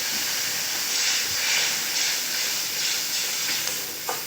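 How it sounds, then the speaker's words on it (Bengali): Water poured onto spice paste frying in a pan for a pumpkin and prawn curry gives a loud, continuous close steam hiss that swells and eases in waves, with a faint clink near the end. "মশলাটা যাতে না পড়ে যায় দিয়ে দেবো জল"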